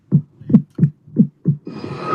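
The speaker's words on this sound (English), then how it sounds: "The heartbeat." A heartbeat thumps in a steady series of five low, deep beats, loud and close, followed by a brief hum at the end.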